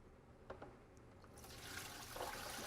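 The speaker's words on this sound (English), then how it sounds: "I'm going to stop and listen for the bubbling" Water sloshes and bubbles inside a SaniServ 500 Series twist ice cream machine during sanitizing, faint at first, then swelling into a steadier, louder gurgling rush partway through.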